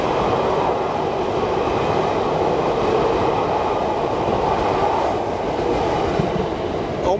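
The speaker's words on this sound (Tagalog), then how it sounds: "Ay, ayun na yung isa pang train." Trains running through a station in Tokyo, where four tracks run side by side. A steady, close rumble of rolling wagons with a faint clickety-clack of wheels fills the whole stretch, and no one speaks.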